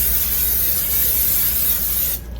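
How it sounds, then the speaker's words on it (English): Cooking spray hisses steadily into a baking pan in one continuous burst, close and loud, cutting off sharply at the end. "I'm going to spray this,"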